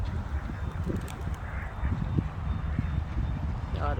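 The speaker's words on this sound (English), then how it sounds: "Look at them geese over there marching, y'all." Geese honk repeatedly at a park by a large stretch of water, a rapid series of nasal calls close by, with background murmur.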